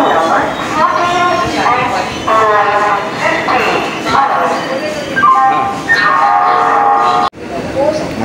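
Train pulling out of Howrah station on the Howrah South section, a loud, busy rumble of rail movement mixed with sustained horn-like tones and nearby chatter from people on board.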